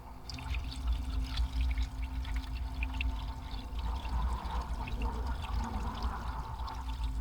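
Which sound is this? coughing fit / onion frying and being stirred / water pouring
water pouring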